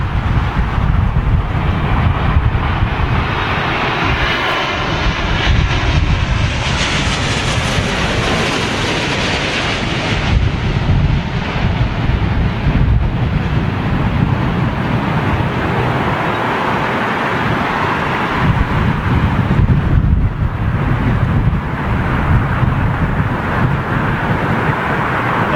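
Aircraft arriving to land at London Heathrow Airport during a storm with strong wind, a continuous loud broadband roar of engines and gusting wind that swells and fades across the whole stretch, with no voices.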